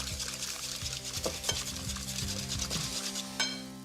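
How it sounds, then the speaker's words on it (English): Eggs seasoned with fresh ground pepper being whisked in a bowl make quick, rhythmic ticking strokes over a soft background hiss. Nobody talks. "Fresh ground pepper, and then whisk. Whisk up those eggs nicely."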